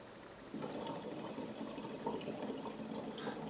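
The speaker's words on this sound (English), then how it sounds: "try to monitor bubbling without phonation" Breath blown through a tube into water for Lax Vox voice therapy, with no voicing, gives a steady bubbling gurgle that starts after a short pause and runs continuously at close range.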